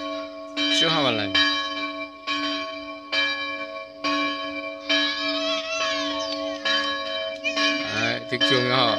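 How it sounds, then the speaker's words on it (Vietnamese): Church bells ring out in a steady sequence of loud, sustained tolling strikes announcing a Mid-Autumn Festival mass at a new H'Mông church, with a few brief voices mixed in near the end. "chuông báo lễ lễ Trung Thu cho các em"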